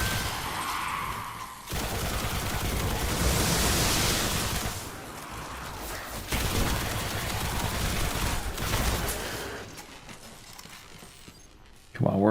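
Sustained automatic fire from an auto rifle in the shooter game Destiny, a dense, loud rattling burst running almost continuously with brief dips and a sharp burst at the very end, no speech over it.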